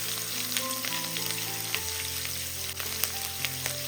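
Crushed garlic fries in a pan while being stirred, giving a steady close sizzle with faint scraping and no voices.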